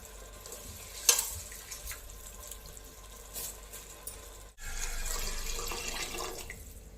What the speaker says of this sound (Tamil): அதுக்கு வந்து ஒரு 3 டம்ளர் தண்ணி சேர்த்துக்கலாம்